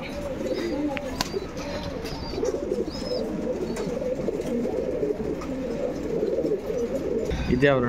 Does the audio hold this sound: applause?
no